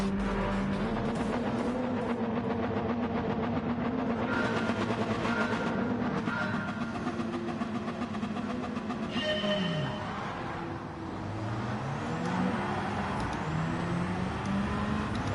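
A GR1 race car engine in Gran Turismo 7 at a standing start, a steady tonal drone with shifting pitch and a sweep as revs change, fairly loud and continuous, with no talk over it.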